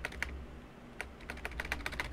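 Keys clack on a computer keyboard in quick irregular bursts, crisp and close but fairly quiet, with a short pause before a faster run of strokes.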